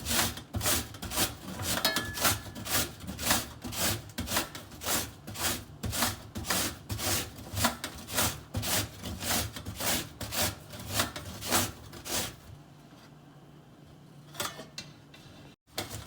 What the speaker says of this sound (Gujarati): અત્યારે કેરી છીણાઈ રહી છે